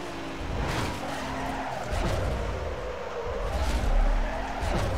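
A car in Need for Speed Most Wanted skids as its rear end breaks out, tires squealing in drawn-out sweeps over a rumbling engine, rising and falling across several slides.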